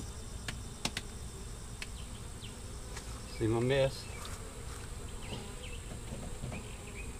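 Honeybees in a long Langstroth beehive buzz in a soft, steady drone close by, with a brief louder burst as a bee passes near, some clicks and a short spoken remark.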